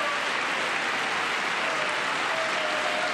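Sustained, even applause from a large audience in the chamber during a presidential address to Congress, a dense wash of clapping heard alone and steady for several seconds.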